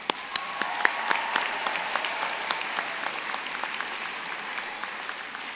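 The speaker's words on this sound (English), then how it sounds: "Graduates, please join me in a round of applause for your family and friends." Graduates applaud their families and friends at a spring university commencement ceremony, a dense steady clapping with a few sharp claps standing out, fairly close and continuing through the whole stretch.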